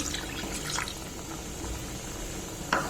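A cup of water is poured into a pan of tamarind fish curry, a quiet, short burble and trickle of liquid with a faint splash near the end.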